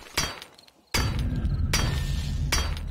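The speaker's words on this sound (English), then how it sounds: "Continuing to hammer the hell at this door." Heavy hammer strikes on a door in the survival game 7 Days to Die: four sharp, loud blows about a second apart, each cracking with a splintering, glassy edge over a dense, rumbling din.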